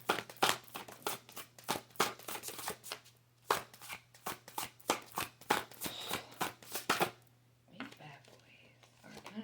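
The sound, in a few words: shuffling playing cards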